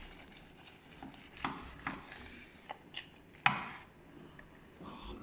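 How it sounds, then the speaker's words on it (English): A knife slices through a stuffed pork loin into thick pieces, giving a series of soft scraping strokes and several sharper taps on the board, fairly close and quiet with short pauses between cuts. "let's cut it into sort of thick slices"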